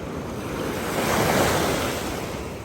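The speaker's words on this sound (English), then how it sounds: "there it is. The Atlantic Ocean" Atlantic Ocean surf breaks on the beach at St. Augustine, Florida, a continuous wash of waves that swells and recedes, with wind buffeting the microphone and no voices.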